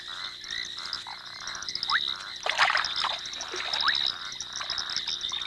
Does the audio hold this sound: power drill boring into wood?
no